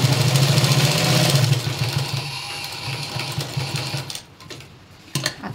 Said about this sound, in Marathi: आपण ॲडजस्ट केलं आहे तिथपर्यंत शिलाई देत द्यायची.